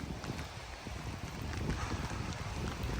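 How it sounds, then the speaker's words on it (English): Strong wind buffets the microphone outdoors among trees in Oregon during a storm, a continuous low rumbling roar with gusty swells and no voices. "It's really windy out today."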